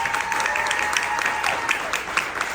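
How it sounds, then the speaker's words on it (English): An audience at a business conference claps for a retired firefighter who now installs spray foam, steady moderate applause with distinct individual claps running through the short burst. "so let's give him a round of applause for that"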